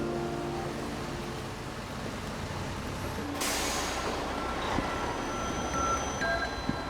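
A refrigerated truck carrying two beluga whales idles and rumbles steadily nearby, with a sharp hiss like an air brake release partway through and faint engine tones over the low drone.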